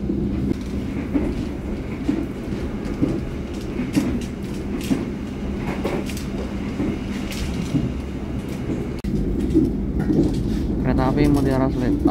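The Mutiara Selatan passenger train runs straight through Geneng station in Indonesia without stopping, a loud continuous rumble with rhythmic wheel clatter over the rails, while people talk in the background.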